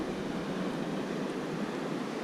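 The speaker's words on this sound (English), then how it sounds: "You can see the water is running very, very fast down through there." Fast-running river water along the Canon City River Walk in Colorado, a loud, unbroken rushing roar close by with no pauses.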